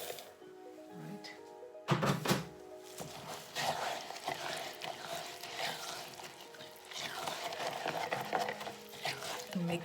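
Sea salt being stirred into a spa soap mixture, a steady scraping, gritty swirl close up that runs throughout, with a few sharp knocks near the two-second mark and soft clatter over low background hum.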